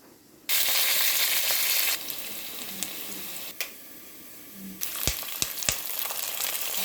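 Semolina (rava) frying in oil bursts into a loud, bright sizzle that settles into a quieter hiss, followed by several sharp scraping clicks of stirring near the end.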